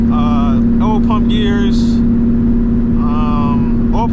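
A loud 2007 Ford Mustang GT V8 drones steadily and close up for the whole stretch, with someone talking over the engine noise.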